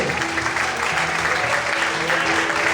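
A church congregation claps steadily and strongly in praise to the Lord, a dense continuous wash of applause filling the room, with faint voices mixed in.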